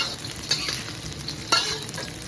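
Shallots sizzling and frying in hot oil with a pinch of salt while being stirred, a steady close crackle with two sharper scrape-and-stir bursts, no talking.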